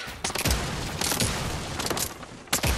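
Rapid bursts of gunfire in the video game Fortnite, several sharp volleys in quick succession with a loud crack near the end, up close and dominating the mix.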